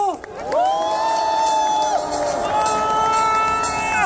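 A large outdoor crowd cheers and shouts at a prayer rally in Busan Station square, with long sustained horn-like or whistled tones held over the steady roar of voices for the whole stretch.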